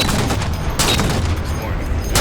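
Railgun fire in the Halo 4 video game, loud booming blasts with crackling bursts and dense explosive rumble, close and continuous.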